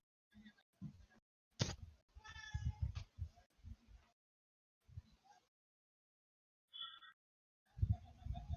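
A house cat meows close by, a few drawn-out cries with short gaps at a table game night, while several people chat and laugh around it.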